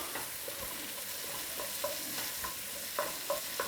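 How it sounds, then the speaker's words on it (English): Garlic frying in a pan and being stirred constantly, a quiet continuous sizzle broken by soft scraping strokes of the utensil, several of them close together near the end. "I'll just give it constantly stir, stir, stir."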